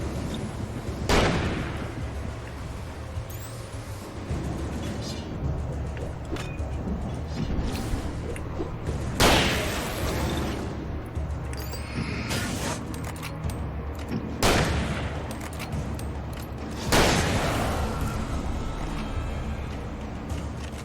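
Shotgun blasts in the video game Alan Wake, four heavy booming shots spaced several seconds apart over a rumbling, noisy game background.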